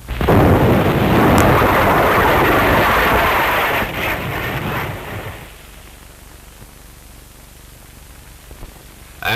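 A 155 millimeter artillery gun fires with a big noisy roaring blast at the start that rumbles on for about five seconds and fades into a quieter hiss, heard through an old, noisy recording.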